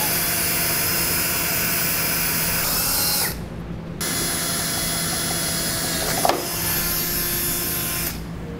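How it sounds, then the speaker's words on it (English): A power drill whines at a steady high pitch while drilling pilot holes in metal on a 2016 Chevrolet Traverse, cutting out briefly twice and then resuming, with a faint click in between. "I'll begin drilling out the pilot holes for these two bottom ones."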